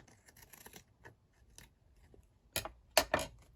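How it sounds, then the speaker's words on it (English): Scissors snip close by: faint rustling and light handling at first, then a short cluster of sharp, crisp cuts near the end. "Snip this one up here."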